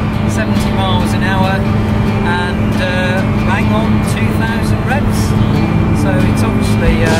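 Inside a Lotus Exige V6 cruising on the motorway at about 70 mph and 2,000 rpm, a constant loud rumble of tyre and engine drone fills the cabin while someone talks over it.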